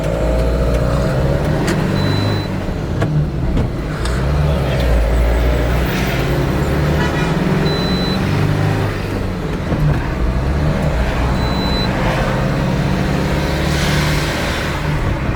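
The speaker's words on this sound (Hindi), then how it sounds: "इसे हमने ऑलमोस्ट 60-70 किलोमीटर स्पीड पे हम अभी इसे क्रूज कर रहे हैं" A Tata Intra V50 pickup cruises on the road at around 60–70 km/h, engine and road noise droning steadily and loudly throughout without any voices.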